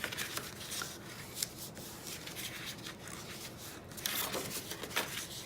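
Cardstock is creased and folded inward along score lines by hand for a craft kit, giving soft papery rubbing and crinkling with a few sharper crackles, quiet and close.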